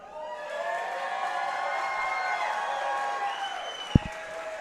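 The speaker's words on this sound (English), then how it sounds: "you could hear from the roar of the crowd, this is a hometown fighter" An MMA crowd roars and cheers for a hometown fighter at a boxing and MMA event, a sustained wash of distant voices that fades near the end and is broken by one sharp thump.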